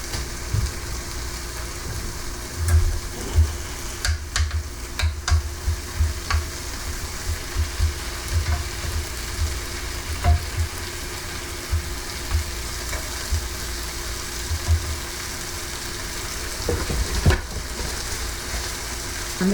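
Sam's Choice turkey bacon frying in a skillet, five thin slices at a time, with a steady close sizzle and occasional utensil scrapes and taps throughout.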